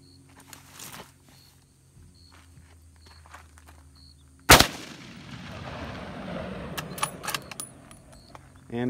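A single sharp gunshot at a car radiator rings out partway through, followed by lingering outdoor noise and scattered clinks and rustles, with faint movement sounds before the shot.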